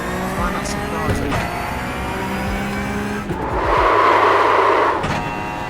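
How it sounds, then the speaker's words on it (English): A racing car in the iRacing sim with its wheels locking up, the engine droning steadily and gear shifts breaking through, then a louder hissing tyre skid swelling for a couple of seconds before the engine note returns. "Try and get those wheels locked up."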